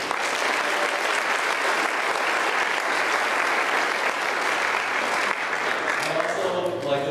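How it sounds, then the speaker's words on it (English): An audience at an Eagle Scout court of honor gives sustained, even applause, a thick wash of many hands clapping that fades near the end as a voice begins speaking. "round of applause for Mrs. Nemeth."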